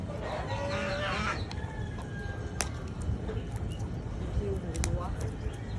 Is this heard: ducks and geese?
yes